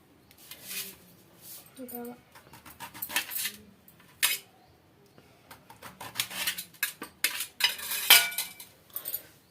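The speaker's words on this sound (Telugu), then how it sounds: "ఇప్పుడు ఈ వంకాయల్ని మనము రౌండ్ షేప్లో కట్ చేసుకోవాలి" Knife cutting brinjals into round slices on a board, irregular chopping taps and clinks in bursts, with a voice speaking between cuts.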